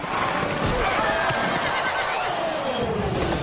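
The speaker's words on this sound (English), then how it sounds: "two wild horses racing at 30 miles an hour slam into each other with tremendous force" Wild horses whinny loudly amid a continuous roar of galloping hooves during a race, steady and dense throughout.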